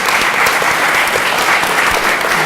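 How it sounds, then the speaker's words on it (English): Steady, dense applause from a panel audience, many hands clapping together at an even loudness throughout, with no voices standing out. "let's give our panelists another round of applause"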